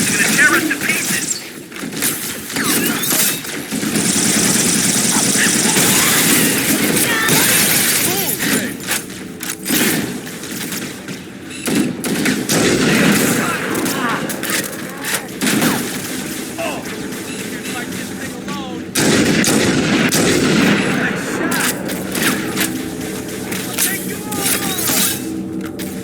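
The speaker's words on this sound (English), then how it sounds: "Those stationary guns are gonna tear us to pieces!" Stationary gun turrets firing in the video game Halo, loud sustained bursts of rapid gunfire and blasts with mechanical clatter across a long battle, broken by brief lulls and mixed with voices speaking.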